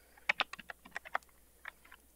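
Typing on a computer keyboard: a short burst of about a dozen crisp, close keystrokes in uneven rhythm, a brief pause, then a few more taps.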